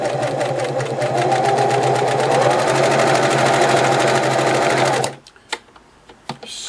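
A Singer Model 353 Genie sewing machine stitches steadily for about five seconds, a loud, even mechanical whir with rapid needle rhythm, then stops, leaving a few faint clicks and handling knocks.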